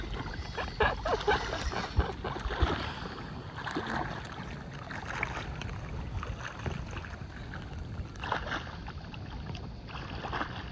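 A boat moving on open water gives a steady wash and low rumble, with gusts of wind buffeting the microphone and a few louder splashes and knocks rising above the continuous churn.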